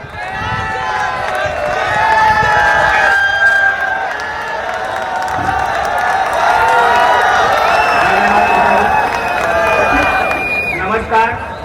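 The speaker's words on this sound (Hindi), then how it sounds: "एक बार जोरदार तालियां।" A college audience at a freshers' welcome event claps and cheers loudly, with whoops and shouts riding over sustained applause that dips briefly and then surges again, and voices mixed into the crowd noise.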